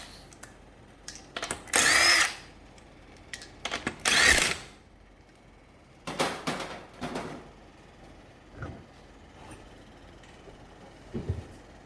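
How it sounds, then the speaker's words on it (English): Impact gun spinning off 19mm lug nuts on a Can-Am X3 Turbo RR wheel: two loud, sustained bursts near the start, then several shorter rattling bursts and scattered clanks of nuts and tools, with no talking. "throw your 19mm for your lug nuts and pop them all off"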